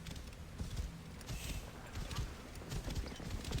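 Horse hooves clip-clop in a steady galloping rhythm in Assassin's Creed Origins, set in ancient Egypt, with a mid-level wash of ambient game noise around them.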